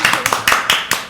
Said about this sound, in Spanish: quiero que le demos la bienvenida a nuestro invitado de hoy. Un aplauso.